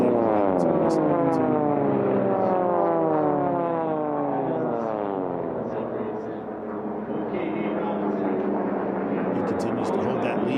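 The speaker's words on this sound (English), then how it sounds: "4 aircraft all bunched up right together." Four racing airplanes bunched together in an air race sweep past with a droning propeller roar whose pitch slides down as they pass, loud and continuous, with a commentator talking over it.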